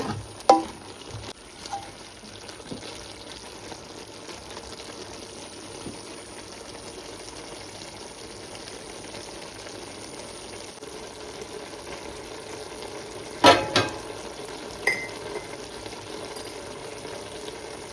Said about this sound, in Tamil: மட்டன்லேருந்து தண்ணி சுரந்து வரும் அது தண்ணி வத்தும் வரையும் அவிப்போம்